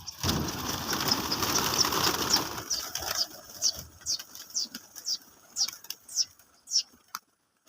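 Pigeons cooing outdoors in Punjab, India: a noisy, rustling start, then a string of short, repeated soft calls and coos, fairly close, with quiet gaps between them and no talk.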